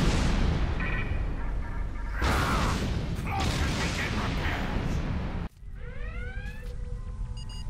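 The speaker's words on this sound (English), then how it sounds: "Fire all weapons!" Starship weapons fire in Star Trek Online on Xbox as a string of loud, harsh energy blasts and booming impacts. They cut off abruptly, and sweeping electronic chirps and tones follow.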